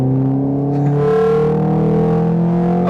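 Naturally aspirated engine of a Peugeot 206 RC revving hard in second gear, a loud, steady, sustained drone with strong harmonics that climbs slightly in pitch across the whole stretch, with no talk over it.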